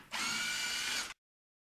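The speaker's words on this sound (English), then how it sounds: "Next, I'll go ahead and remove the Torx bolts." A power tool spins out Torx bolts on a car, one close, loud, steady whirring run of about a second that stops abruptly into silence.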